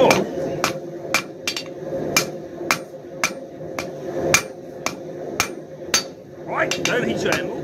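A hammer strikes hot steel on an anvil to draw a taper on a forged bottle opener, a loud, steady, evenly spaced series of ringing metallic blows heard close up with little else.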